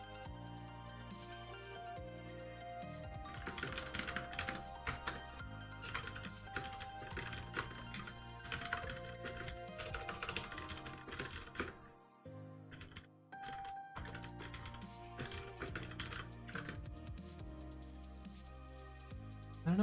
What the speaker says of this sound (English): you guys are just sitting here listening to me tap away on a keyboard